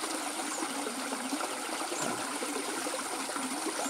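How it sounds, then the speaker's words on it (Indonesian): A river flows near terraced rice fields in Palopo, giving a steady, even rush of water that fills the whole moment at moderate distance, with no voices. "Dekat sungai, airannya sudah bagus."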